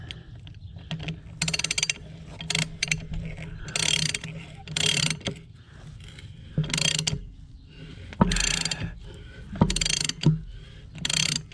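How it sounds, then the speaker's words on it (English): A wrench working a stud into a stripped hole on a dual wheel hub gives bursts of rapid ratcheting clicks between short pauses, close and fairly loud, repeated through the whole stretch. "we're gonna be wrenching here for a while"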